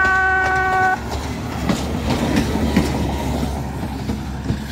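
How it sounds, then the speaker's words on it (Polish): A Regio passenger train, an SA-109 railcar on the Słupsk–Chojnice line, rolls past a closed level crossing at close range, a steady loud rumble and rattle of wheels following a brief crossing bell tone at the start. "Jedzie pociąg relacji Słupsk-Chojnice."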